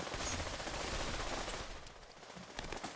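Dense, sustained gunfire from a Pavlov VR multiplayer match, a steady wash of rapid shots holding loud through the first half and then thinning into scattered bursts.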